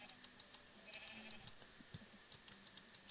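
Minecraft sheep bleat in short, repeated calls, faint and somewhat distant, scattered through the clip over low game background sound with occasional light ticks.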